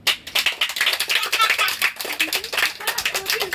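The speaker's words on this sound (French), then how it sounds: "On peut applaudir Lucas" An audience bursts into quick, lively clapping for Lucas, a close and crackling flurry of hand claps lasting a few seconds, with faint voices mixed in.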